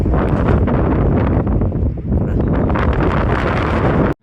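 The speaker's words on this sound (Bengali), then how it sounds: "এত বাতাস" Strong wind blows steadily outdoors beside a waterfall, roaring and buffeting close against the microphone for about four seconds with a brief lull midway, then cuts off abruptly.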